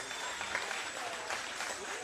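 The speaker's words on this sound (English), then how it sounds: "let's give a round of applause for these two warriors." Applause and crowd noise at an amateur boxing event honoring two fighters, a fairly faint, even roar of clapping with murmuring voices mixed in.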